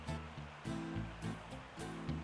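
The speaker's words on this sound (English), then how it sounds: "I hear running water." Running water in a deeper cave area of the Pokemon Colosseum video game, a steady rushing wash like surf or a stream with low droning game music pulsing over it at moderate volume.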